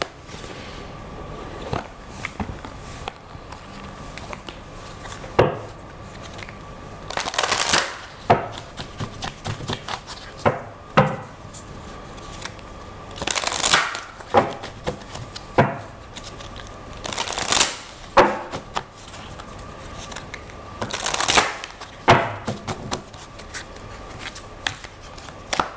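A deck of oracle cards is shuffled close up in repeated bursts of riffling and sliding, separated by soft taps and short pauses.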